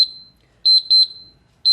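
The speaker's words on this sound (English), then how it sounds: "I specifically went on Amazon and looked for loud timers" A loud kitchen timer alarm sounds in sharp, piercing high beeps, one fading tone, then a quick cluster of four beeps, a pause, and another beep starting, close and alone.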